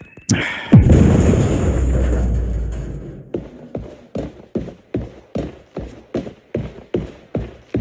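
A single loud grenade blast in a video game, a sharp crack swelling into a long rumbling roar that fades after about three seconds, then a steady run of short, evenly spaced tapping knocks.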